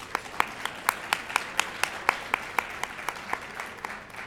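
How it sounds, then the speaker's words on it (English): Rhythmic, evenly spaced claps at an awards dinner, honoring Representative Greg Porter, sharp distinct hits in a steady pulse over a soft background of wider applause. "we certainly want to give a big round of applause for Representative Greg Porter"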